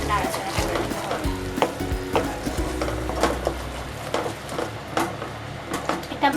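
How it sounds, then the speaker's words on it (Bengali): Spiced masala of turmeric and Kashmiri red chili powder sizzles in hot oil as a spoon stirs and scrapes the pan in steady, repeated strokes, close and clear with no talk. "এটা ভালো করে নাড়াচাড়া করে নিতে হবে যতক্ষণ না তেল বেরোয়।"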